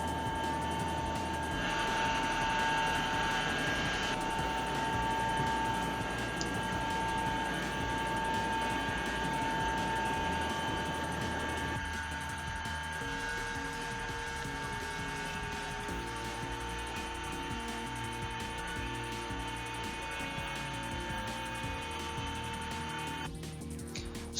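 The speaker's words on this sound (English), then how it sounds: "in this video you can hear turning gear volume from behind, so it rotates the crankshaft" A commercial ship's engine room, with the turning gear slowly rotating the main engine crankshaft: a loud, steady mechanical drone and hum with a tonal whine, continuous and unbroken, the tone shifting partway through.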